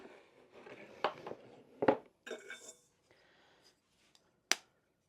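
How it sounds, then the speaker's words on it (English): Two eggs cracked into a bowl in a tiny apartment kitchen while making pasta from scratch: a few sharp, close shell cracks and taps spaced apart, with quiet rustling between. "2 eggs, and I'm gonna crack them in a different bowl"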